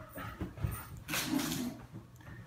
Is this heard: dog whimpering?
yes